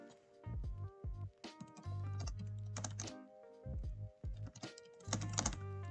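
Rapid typing on a computer keyboard during a livestream, with bursts of clacking keystrokes and short pauses across the whole stretch, close and fairly loud.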